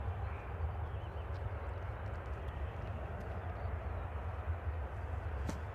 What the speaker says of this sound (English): We've got an Emirates 777 about to fly over.